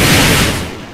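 A huge simultaneous barrage of fireworks from every firework type placed on separate racks in Garry's Mod, a dense, loud crackling roar of overlapping bangs that fills the second and tails off slightly toward the end.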